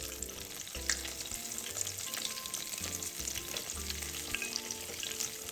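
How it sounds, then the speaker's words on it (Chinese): Shrimp and chive fritters deep-frying a second time in hot oil at about 185°C, a dense, loud, continuous crackling sizzle heard up close throughout, with occasional stirring scrapes. "再將原來的油瀝乾淨，再復炸30到40秒"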